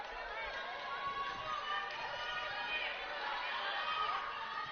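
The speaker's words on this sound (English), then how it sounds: "Good noise from the crowd here at the Reitz Arena." Crowd noise fills an arena during a women's college basketball game at Reitz Arena, a steady, moderately loud wash of cheering and chatter with no clear break.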